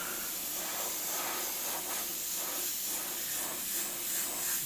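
Yellow paint hisses steadily from a spray gun in one continuous, fairly quiet spray that runs unbroken from start to end, with no speech over it.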